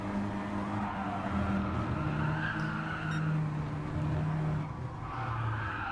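Race cars lapping the Brands Hatch Indy circuit, a steady engine drone with tire noise swelling and easing as cars pass at a moderate distance, no talk.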